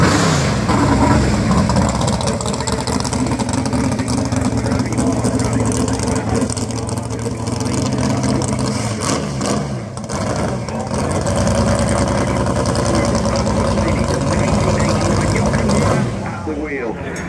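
A Mercedes-AMG GT3 race car with a 6.2 litre V8 roars continuously at close range at the Goodwood Festival of Speed, loud and steady with a brief dip near the end, while people talk over it.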